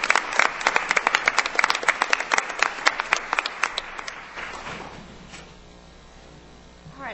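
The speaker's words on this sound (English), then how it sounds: "I'd like to give them another round of applause." Board meeting audience gives a middle school chorus of young singers another round of applause, loud distinct claps at first that thin out and fade after a few seconds.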